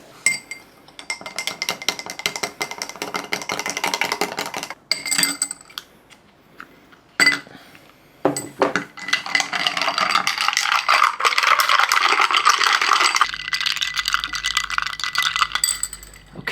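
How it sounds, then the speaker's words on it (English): Ice cubes rattle and clink against glass while being dropped into a Nescafé Frappé iced coffee, a busy run of bright jangling knocks with brief pauses, ending in a low steady hum. "And then you have to stir it and put in the ice."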